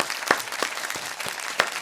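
A crowd claps for Ja Rule in a brief burst of applause, with several sharper hand claps standing out from the steady patter.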